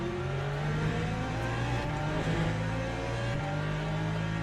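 Engine of an LMP2 prototype race car in the Le Mans Ultimate racing game at Paul Ricard, a loud steady drone with slight pitch shifts at gear changes, heard alone without talk.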